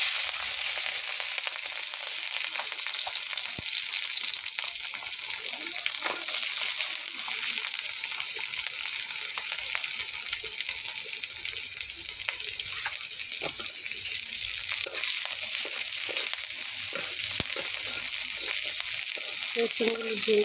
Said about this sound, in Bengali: এখন আমি কড়াইতে তেল দিয়েছি। এখন আমি দিয়ে দিব রসুনগুলো